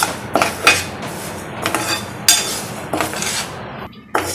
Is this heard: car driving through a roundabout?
no